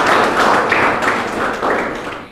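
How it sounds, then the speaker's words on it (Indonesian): A classroom of students applauds a classmate, a dense burst of clapping close by that rises and slowly thins out. "tepuk tangan dulu buat teman kita"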